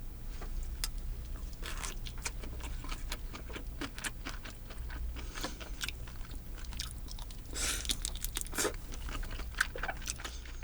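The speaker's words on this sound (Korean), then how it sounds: "곰새우를 한번 먹어볼게요" Steady wet chewing and crunching close to the mic, with occasional crisp bites over a low background hum.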